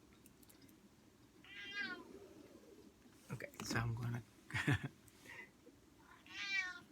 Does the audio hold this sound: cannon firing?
no